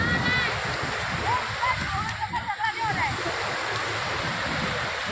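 Falling water rushes steadily at close range, a dense continuous wash that runs the whole time while people talk over it.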